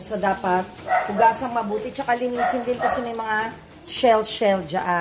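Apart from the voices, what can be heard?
dog barking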